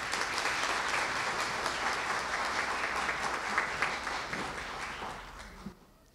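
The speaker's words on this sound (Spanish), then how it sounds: "un aplauso para todos ustedes" Sustained applause from an audience at a healthy-bakery certification ceremony in Miraflores, steady dense clapping that fades out near the end, with a faint voice underneath.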